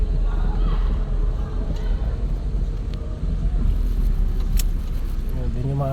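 A car's engine hums low and steady as a learner driver gives it gentle gas. An instructor speaks over the drone inside the cabin, and there are faint clinks now and then.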